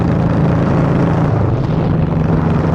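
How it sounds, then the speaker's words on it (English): A loud, steady motorcycle engine roar drones continuously at close range, a dense rumbling motor sound with no pauses or talking. "It's so loud. That's the loudest machine I own."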